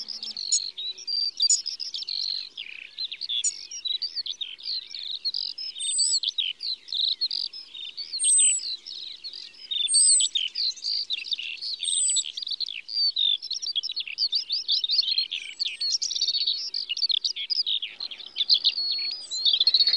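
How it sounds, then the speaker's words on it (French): Wild birds singing at a former airfield turned natural grassland at Ploufragan, a dense chorus of overlapping chirps, trills and whistles from several birds, continuous and fairly close, with no voices. "parmi les 44 espèces d'oiseaux présents ici"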